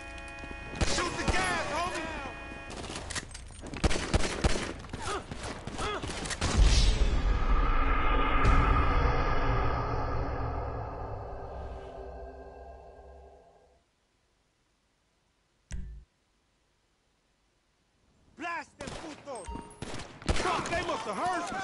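Gunfire in Grand Theft Auto V: rapid bursts of shots and a loud explosive rumble that decays, then quiet with a single sharp hit, followed by more shooting; characters talk amid the action.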